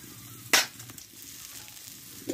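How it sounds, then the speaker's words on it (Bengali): Chopped onion fries in a little oil in a wok with a faint, soft sizzle, broken by one sharp stirring scrape near the start. "পেঁয়াজটা আমি ভালোভাবে একটু ভেজে নিচ্ছি"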